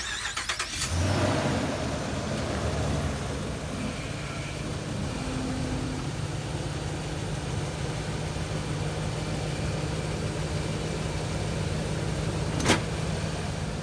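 A pickup truck's engine runs steadily at idle throughout, close and continuous, with a brief start-up burst near the beginning, while hooking up a Boss snow plow.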